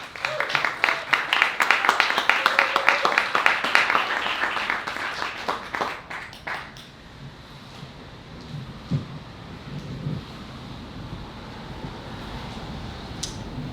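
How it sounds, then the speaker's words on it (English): An audience at a poetry reading applauds warmly, a loud burst of dense clapping that tapers off after about seven seconds into quiet room tone with a few scattered claps and faint shuffling. "give a huge round of applause for Erika Hodges, everyone"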